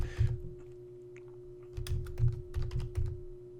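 Data keyed into a calculator, a quick run of light plastic button taps in short clustered bursts, close and clear over a faint steady electrical hum, with no talk.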